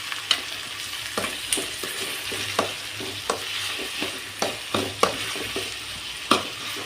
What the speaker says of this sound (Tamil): வதங்கிட்டுருக்கு நல்லா எண்ணெயில்